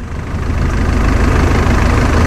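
A motor boat's engine drones steadily as the boat travels through a narrow channel near Phi Phi Island, Thailand. The low, continuous rumble stays close and even throughout, with no voices.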